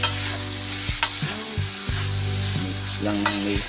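Fried rice sizzling in a pan while being stirred, with close, continuous frying hiss and several scraping and tossing strokes across a few seconds; no voices.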